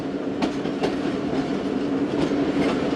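Awam Express passenger train rolling past at Rahim Yar Khan, a steady loud rumble of wheels on rail with repeated clickety-clack beats from rail joints throughout.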